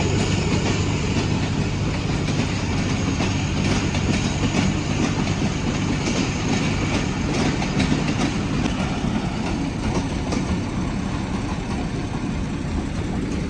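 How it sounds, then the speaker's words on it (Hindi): A train from Multan bound for Rawalpindi rolls in at a station, a loud continuous rumble of engine and carriages with rail clatter that fills the whole stretch, with no voices over it. "तो ट्रेन आ गई है जी।"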